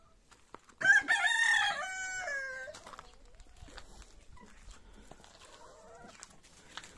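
A rooster, three years old, crows once, loud and close, a long harmonic call lasting about two seconds, followed by quieter farmyard background noise.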